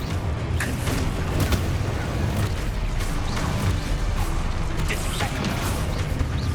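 Repeated Confringo spell blasts during Hogwarts Legacy combat: a dense, loud run of overlapping impacts and crashes over continuous rumbling game noise, close and busy, with brief sharp hits scattered throughout.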